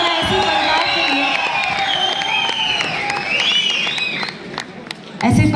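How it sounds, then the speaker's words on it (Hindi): A crowd at a Sufi festival in Kashmir gives loud, sustained applause for a qawwali performer. Dense clapping is mixed with cheers and whoops, and voices rise over it throughout. "एक बार जोरदार तालियां ऐसे फनकार के लिए"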